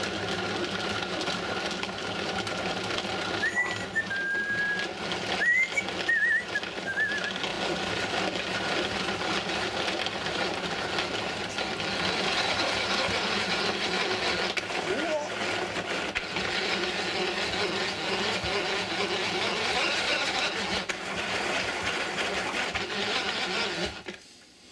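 An electric chopper grinds garlic in a steady, continuous motor whir that runs loud and close for the whole stretch, with a brief higher whine near the start and a voice speaking over it.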